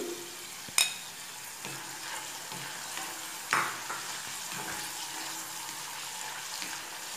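Jackfruit pieces fry in oil with turmeric, making a soft, even crackle at low volume, broken by a couple of sharp utensil clinks against the pan and faint scraping; no one speaks.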